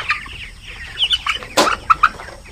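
Chickens at a poultry farm cluck close by in short irregular bursts, one louder squawk standing out amid quick chirpy calls, over a quiet farmyard background.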